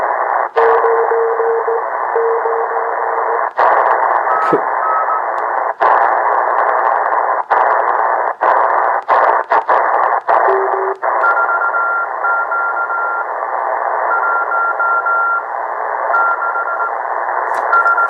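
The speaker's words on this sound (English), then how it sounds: "little bit of Morse code" Morse code tones come through an XHDATA D-808 portable radio tuned to single sideband: steady beeps and dashes in clear rhythm over constant band hiss, broken by occasional static clicks.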